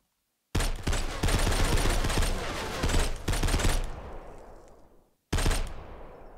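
Sustained bursts of rapid automatic gunfire from bullets fired in a video game, loud and close, with one long stretch that breaks off, a trailing tail, then a short fresh burst.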